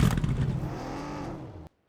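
A car rushes toward the players in a shooting video game with a brief loud engine whoosh that fades out, then a sudden cut and a short burst at the end.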